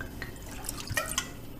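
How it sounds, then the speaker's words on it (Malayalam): Water pours into a pan on the stove for a drumstick and tomato curry, heard as faint, scattered drips and small splashes over a low background hum. "ഇതിലേക്കൊരു 1 കപ്പ് കണക്കാക്കി വെള്ളം ഒഴിക്കുക"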